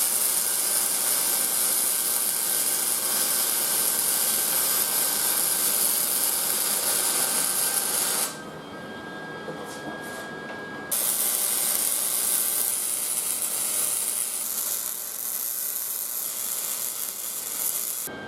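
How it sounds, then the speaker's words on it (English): A steady, loud hissing crackle of welding on an 8.8 axle being fitted to a Jeep Wrangler YJ. It runs continuously, pauses briefly midway, then resumes without talk. "I'm going to fully weld it now"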